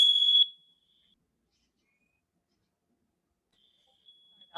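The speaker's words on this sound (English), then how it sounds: "We've got fire alarm testing going in my building." A building fire alarm under test sounds a loud, piercing electronic tone at the start, then falls silent before a fainter tone returns near the end.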